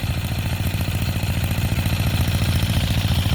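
An old 4 hp diesel engine runs just after a cold start, its loud, steady rapid thumping close by and alone.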